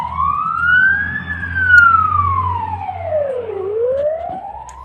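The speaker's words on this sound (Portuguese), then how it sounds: "aqui tem as ambulâncias chegando para lá em Iurivka, né, para pegar os feridos e mortos" Ambulance sirens heading toward Iurivka: a single wailing siren slowly rising and falling in pitch, fairly loud over a low rumbling engine and traffic background, no speech.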